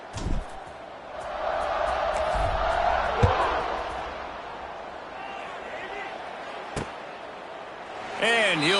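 College football stadium crowd at SMU's opening-week game before kickoff, a broad murmuring roar with a sharp thud and a swell of cheering and whistles near the end, under a commentator's voice.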